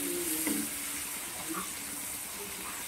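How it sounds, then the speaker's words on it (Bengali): Two medium-chopped onions sizzle in a frying pan, a steady broadband hiss with a few soft stirring clinks, close and moderately loud, no talking. "ভালো করে ভেজে নেব।"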